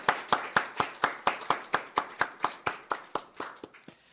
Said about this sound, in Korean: 우리 반가움에 우리 박수로 우리 같이 목사님 환영하시겠습니다.